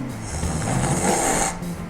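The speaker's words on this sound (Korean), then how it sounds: "이렇게 숨이 쑥쑥 들어갈 때 나는 소리는 단순 코골이라고 볼 수 있고요" One long snore of simple snoring, with air drawn smoothly in through a rasping, vibrating airway. It is close and fairly loud, and no talk is heard.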